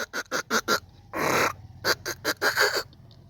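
A voice imitates the clicking of a worn CV axle drive shaft, a series of rapid, sharp, rhythmic clicks broken by a short rasping burst in the middle, close and alone.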